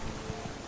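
Hooves of the horse Roach in the video game Witcher 3 clip-clopping: a few soft, muffled thuds in quick succession, faint and brief.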